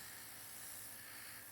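A steady, even hiss from an airbrush spraying nail color at a nail workshop, continuous and close with no pauses.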